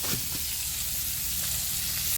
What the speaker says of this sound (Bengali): ভাই মাছ ভাজা রেডি